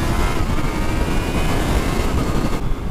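A Kawasaki Z-H2 supercharged naked motorcycle's engine roars under hard acceleration, a loud, steady, broadband rumble sustained throughout with no speech.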